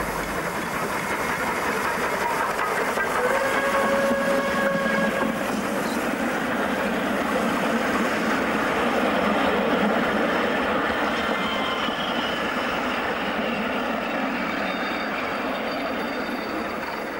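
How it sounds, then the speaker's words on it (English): A locomotive-hauled passenger train on the Armadale line in Western Australia rumbles past steadily, its engine drone and rolling wagons continuous and fairly close, with brief high wheel squeals early on and no voices. "The last of the peak hour locomotive hauled passenger trains on the Armadale line"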